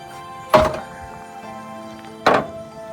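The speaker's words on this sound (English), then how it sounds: "You can then use this handle to pull the ramp out." Two solid thunks about two seconds apart as a manual fold-out wheelchair ramp is pulled out by its handle from the side of a 2014 Dodge Grand Caravan BraunAbility XT, close by in a quiet space.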